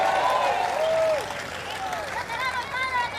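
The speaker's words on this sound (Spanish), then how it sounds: "Fuerte el aplauso para el Padre Luis Toro." Church congregation applauding for Father Luis Toro during a service, a broad wash of clapping that fades after about a second as voices carry on over it.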